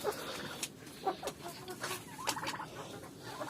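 Chickens cluck and call repeatedly in a coop, close and fairly loud, with overlapping bursts and no talk over them.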